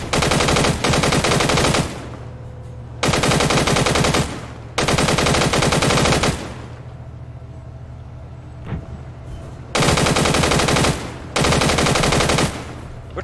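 Heavy automatic gunfire rattles in the ArmA 3 military game in long loud sustained bursts separated by short pauses, with a low rumbling undertone throughout.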